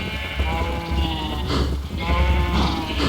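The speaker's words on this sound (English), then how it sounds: "And now you'll start to see little baby cows and sheep everywhere." Sheep and cows in the Minecraft video game bleat and low while being bred, a close, loud cluster of overlapping wavering calls.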